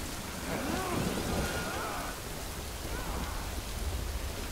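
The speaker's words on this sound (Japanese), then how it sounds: "時雨か。" Timefall rain falls in the Death Stranding video game as a steady, dense hiss of rain, with faint swooping tones drifting underneath.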